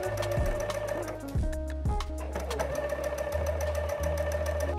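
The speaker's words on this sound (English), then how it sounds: "Now it's time to top stitch, under stitch. Adjust the settings and sew." A sewing machine top-stitches and under-stitches a neckline in quick, loud, close bursts of mechanical whirring. The needle chatters rhythmically, with short pauses and changes in speed between runs, and no one speaks.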